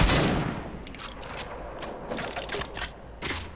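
Kuva Chakkhurr rifle firing in Warframe, a heavy blast at the start followed by several sharp, evenly spaced shots with booming impacts, loud and with no talk over them.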